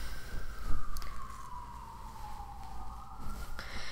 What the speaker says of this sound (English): more sirens. Oh joy.